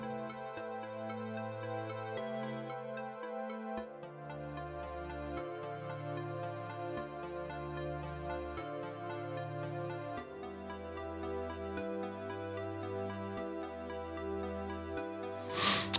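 Plucky, popcorn-like synth patch built in UVI Falcon, playing a steady sequence of short bouncy notes over a sustained bass line, close and clear throughout, with no talking.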